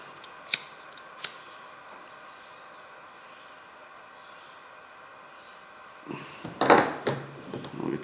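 Two quick, crisp scissor snips near the start, trimming material on a European predator skull mount, then quiet hiss, followed by a burst of rustling and handling noise at the end.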